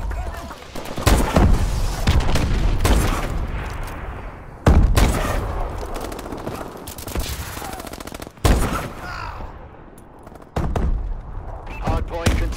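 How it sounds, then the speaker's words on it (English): Friendly missile strikes in Call of Duty Advanced Warfare Hardpoint: several heavy, loud booms and sustained rumbling blasts mixed with gunfire, a few sharp onsets spread through the stretch, with game announcer voices now and then. "Friendly missile strikes inbound."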